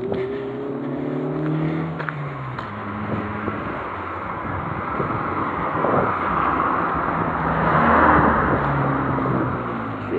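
Cars pass on a street during a walk, their tire and engine noise building and fading, loudest near the end, mixed with wind buffeting and a low rumble.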